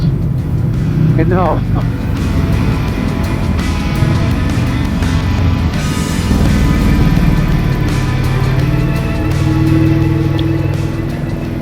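A 1998 Buell S1 Lightning motorcycle engine runs steadily nearby, a continuous low rumble throughout, with a person talking over it briefly.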